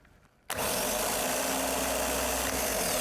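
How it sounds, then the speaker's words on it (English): After a brief quiet moment, an engine abruptly starts up with a loud, steady, buzzing mechanical roar that continues without pause. "the starter's consuming a lot of the voltage when I turn it over"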